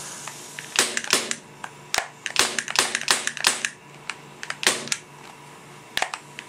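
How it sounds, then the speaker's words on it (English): A WG Wingun P230 Phantom CO2 gas blowback pistol, leaking gas, fires a string of close, sharp cracks with metallic slide clacks, some shots in quick pairs and clusters, others spaced apart, over a faint background hiss. "Gotta shoot it before it leaks out all of it."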